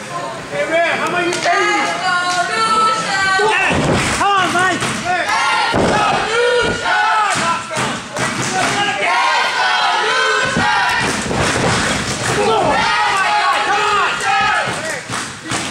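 Wrestling crowd at a TWA match between Lucian Kross and Mike Knoxville cheering and roaring for Kross, loud and continuous, with surges and a few sharp thuds, under voices throughout.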